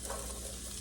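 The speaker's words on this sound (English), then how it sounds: "we're going to start frying up our onion" Onion sizzling in hot oil in a pan, a steady dense crackle and hiss at moderate loudness with no talking.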